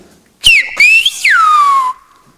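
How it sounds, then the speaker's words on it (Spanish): A person whistles the Spanish word chiquillo as a loud, clear, close whistled phrase in three gliding segments, rising and falling in pitch and then trailing downward at the end. "Si yo silbo, por ejemplo, la palabra chiquillo, que tienen las vocales I, I, O, I, I, O, sonaría así."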